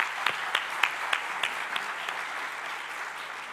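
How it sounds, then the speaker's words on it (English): Event audience applauding the organizing team at a Web3 conference, a fairly quiet spread of clapping with a few sharper individual claps standing out early before it settles into a soft, fading patter. "let's do a big round of applause to all the organizing team who put this event on"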